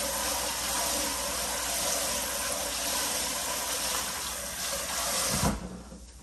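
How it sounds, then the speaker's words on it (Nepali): Dishes are washed under a running kitchen tap, a loud, steady rush of water that flows without a break and then cuts off abruptly near the end, with no talk. "भाँडाहरू पनि माझ्नु पर्ने त भाँडाहरू त म माझिहाल्छु"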